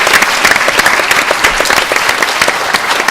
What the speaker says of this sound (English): Girls, please put your hands together for Marcia Ella-Duncan.